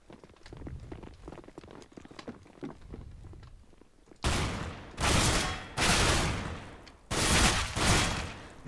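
Gunfire in Counter-Strike: Global Offensive: after quiet footsteps and faint movement, four loud, broadband bursts of shots ring out at close range in uneven succession, each lasting under a second.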